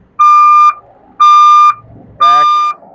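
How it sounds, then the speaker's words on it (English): Three loud electronic beeps, each about half a second long, repeat at an even pace with short quiet gaps, close by, from a new Kenworth T880 dump truck's warning alarm. "Sorry for the beeping, it's a little loud."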